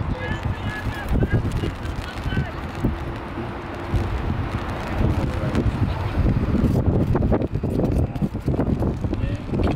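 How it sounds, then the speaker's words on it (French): Gusty wind buffets the microphone at an outdoor under-14 youth football match, Westerlo against KV Mechelen, producing a loud, continuous low rumble that swells and dips throughout, with people talking underneath. "qu'ils arrêtent avec ce vent, quoi"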